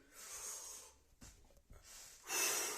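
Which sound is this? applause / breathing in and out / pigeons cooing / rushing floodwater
breathing in and out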